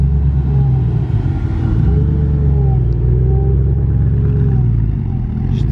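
Koenigsegg Regera hypercar engine running in a steady, loud drone with a low, wavering tone, heading down into an underground car park at a hypercar owners' gathering in Europe, under continuous background noise.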